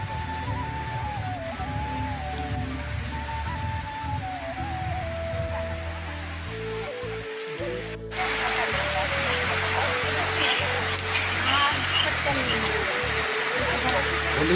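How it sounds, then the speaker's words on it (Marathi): Heavy rain pours down steadily as a dense, hissing wash that grows noticeably louder midway through, with a tonal melody running over it and no clear speech. "एकदम जबरदस्त पाऊस पडा ना."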